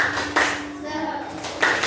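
A school class performs a rhythmic spirit clap, with sharp group hand claps landing in a quick pattern, close and loud, and voices mixed in with the clapping.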